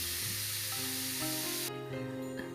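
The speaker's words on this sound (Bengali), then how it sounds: "তেল গরম হয়ে গেছে আমার। এবারে বিনসটা আমি ভেজে নেব" Green beans, cut and washed, hiss in hot oil with a steady broadband sizzle that cuts off sharply midway, leaving a quieter hum with faint clinks, no voices.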